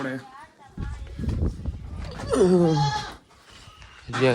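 A small young goat bleats in a few wavering cries amid talk and rustling, its voice rising and falling mid-clip and again briefly at the end.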